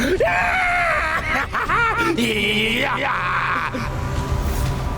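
Loud, high-pitched screams from a voice, rising and wavering in long shrill bursts with little pause between them.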